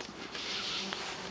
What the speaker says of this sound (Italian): orecchioni tutti pieni di mosche